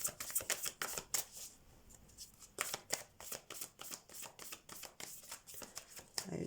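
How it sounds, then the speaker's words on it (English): Tarot cards are riffled and shuffled in quick bursts of crisp flapping, pausing briefly midway before resuming, close by and fairly quiet. "Let's shuffle your cards first."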